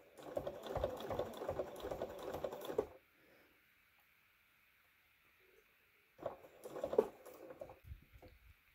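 A sewing machine stitches a zippered cushion cover in two bursts of fast, even needle patter, separated by a few seconds of near silence.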